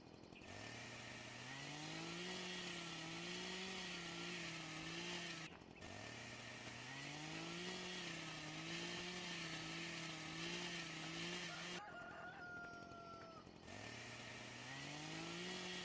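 Chainsaw felling trees in Farming Simulator 2013 with the Forstmod forestry mod, its engine revving up and down in repeated cutting bursts, loud and close, with short pauses between cuts.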